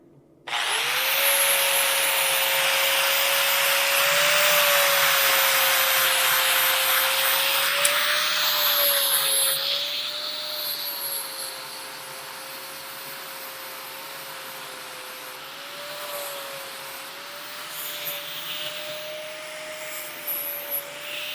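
Close, loud bench grinder whine with a steady tone as metal punches and chisels are ground, hissing harshly for about ten seconds before easing to a quieter running hum, with no talking.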